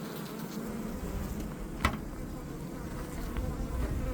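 Honey bees hum softly around a small mini mating nuc, a continuous low buzz with one brief sharp tap partway through.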